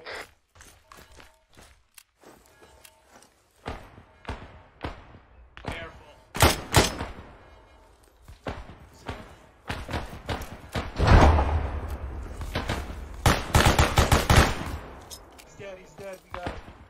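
Gunfire in a military video game: scattered single shots and rapid bursts, some near and loud, some distant, with thuds, footsteps and voices talking between the volleys.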